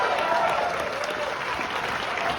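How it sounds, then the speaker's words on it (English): Enthusiastic audience applause after a screening of the film Nonnas, a loud continuous clapping crowd with some voices mixed in, sustained throughout. "Let's give it a huge round of applause."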